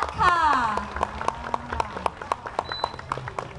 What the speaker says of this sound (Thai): ขอเสียงปรบมือให้กับอาจารย์อา